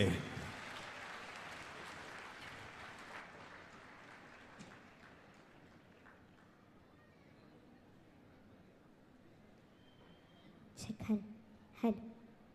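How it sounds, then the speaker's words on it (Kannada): An audience at a light-music stage show claps, the applause fading from moderate to faint over several seconds, followed by quiet and two short sharp bursts near the end. "ಜೋರಾದ ಚಪ್ಪಾಳೆಯೊಂದಿಗೆ"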